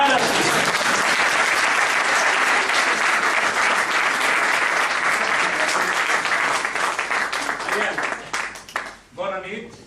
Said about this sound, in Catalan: Aplaudiment, ara sí!